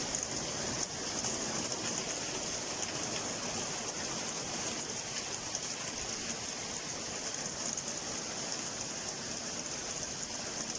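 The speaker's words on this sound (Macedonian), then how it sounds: "Премногу силно невреме." A heavy rainstorm in Veles, Macedonia pours down as a dense, steady hiss of rain on surfaces, continuous and even from start to finish with no voices.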